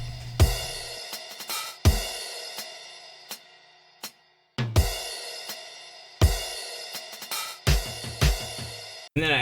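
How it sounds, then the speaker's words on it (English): Drums from a Kong drum patch, solo, with punchy kicks and snares in a loose rock pattern, sharp hits dropping to brief silences between phrases. "I just have a Kong patch here with some drums sound like this originally"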